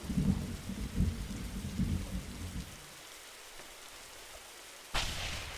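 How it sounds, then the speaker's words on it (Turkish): Video game rain patters steadily with low thunder-like rumbles at first, then fades quieter before a sudden burst of heavier rain near the end. "Ha işte yağmur başladı."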